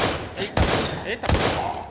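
Two heavy, booming gunshots a little under a second apart in the survival horror game Daymare 1998, each a loud thud with a ringing tail, over a busy game backdrop.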